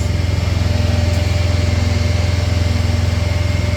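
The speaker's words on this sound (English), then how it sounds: "I got my generator running" A generator engine runs close by, loud and steady, with a fast, even pulsing drone and no voices over it.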